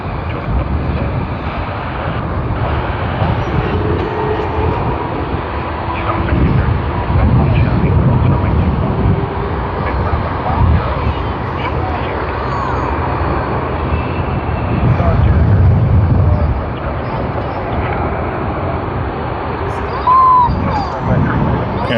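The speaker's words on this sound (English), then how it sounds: "Sydney to Seoul engine service on the Boeing 787-8 Dreamliner JQ47 Jetstar. They are on runway 34 and will begin their takeoff roll soon." A Jetstar Boeing 787-8 Dreamliner on runway 34 at Sydney Airport roars through its takeoff roll, a loud sustained engine rumble swelling and easing, with voices murmuring faintly at times.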